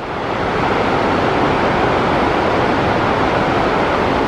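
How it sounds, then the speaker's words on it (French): A mountain waterfall near the Ailefroide glacier at Pelvoux in the French Alps gives a loud, steady, close rush of falling water that fills the whole stretch, with no voices. "On revient à la cascade du départ, ouais."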